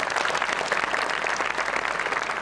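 A short burst of audience applause, many hands clapping in a dense, even patter throughout, moderately loud with no voices.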